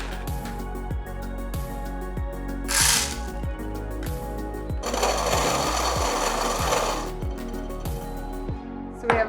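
Coffee beans ground for AeroPress coffee, likely in a hand grinder, making a steady rhythmic ratcheting crunch with regular clicks; a louder gritty burst of grinding swells midway, up close with no talk.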